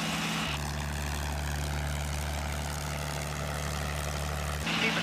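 A P-51 Mustang's piston engine drones steadily on landing approach, a deep, even propeller hum that holds constant and loud across the whole stretch, with a brief shift in tone at the start and end.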